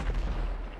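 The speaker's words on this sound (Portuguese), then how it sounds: "os caras tão lá com fogo de artifício, os caralho, tô dando tiro" Gunfire and fireworks popping in a GTA V roleplay session at an in-game UFC event in Colombia, a dense, continuous crackle of shots and bursts with no clear gaps.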